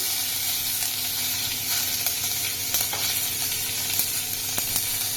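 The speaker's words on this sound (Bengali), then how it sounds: "এবার সর্ষে ফোড়ন দিলাম, কারি পাতা দিলাম" Mustard seeds and curry leaves crackle in hot oil, a loud, dense, steady sizzle dotted with sharp pops and spits throughout.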